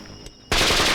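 Burst of loud, rapid gunfire erupting suddenly halfway through in a Hindi army action film, dense and continuous after a quieter stretch.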